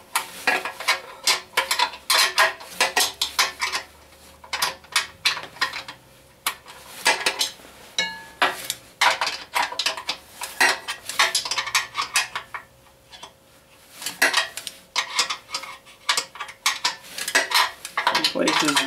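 A ratcheting wrench clicks in rapid bursts while loosening or tightening bolts on a house compressor pulley, with dense metallic chatter close to the listener, separated by short pauses.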